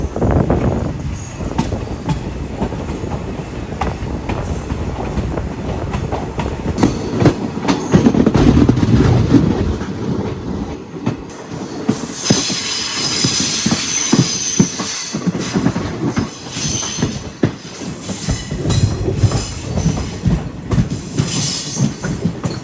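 A Jabalpur–Coimbatore special train with AC and economy coaches passes close by, a loud sustained rumble with rhythmic clickety-clack of wheels over rail joints and occasional wheel squeal, no talk.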